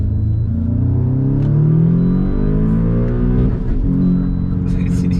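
An Audi S3 8V fitted with an APR low-pressure fuel pump pulls hard in second gear. The engine rises in a loud, steady, droning climb close to the car, with only light voice in the background.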